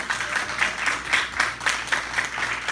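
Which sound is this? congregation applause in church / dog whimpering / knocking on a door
congregation applause in church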